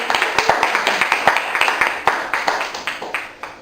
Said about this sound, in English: Let's give him a hand of applause and warm welcome, Mr. Wortham, Mr. Eric Wortham.